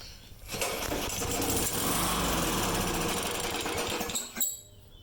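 A walk-behind lawn mower with a suspected dirty carburetor pull-starts, runs loudly with a rough, rattling engine drone for about four seconds, briefly surges, then cuts out and dies.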